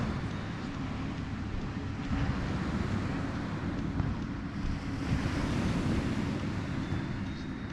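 Sea surf washes steadily along the Pelion coastline, a broad continuous rush of waves with wind buffeting the microphone, no voices, swelling slightly midway.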